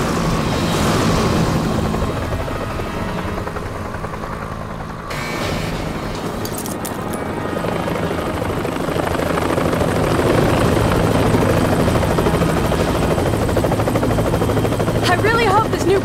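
Game aircraft coming in to land in Resident Evil: The Umbrella Chronicles, a steady helicopter-like rotor and engine roar that holds loud throughout, with voices talking over it.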